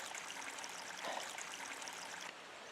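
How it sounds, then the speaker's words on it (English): Water rushes steadily down a forested ravine in the Cumberland Plateau, a constant broadband hiss heard from some distance with a brief swell midway, and no voices. "We can hear the water."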